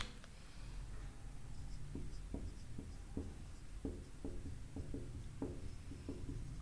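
Marker or chalk strokes on a board during a meteorology lecture, a run of short, evenly paced scratchy taps as a word is written, quiet and close, over a low room hum with no talking.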